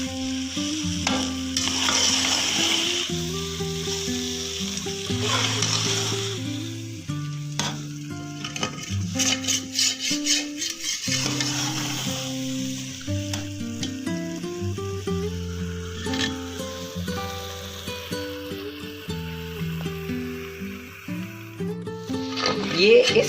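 Carrot halwa thickens in a pan as a spoon keeps stirring and scraping through it, a busy, continuous sizzle with a melodic tune playing over it throughout.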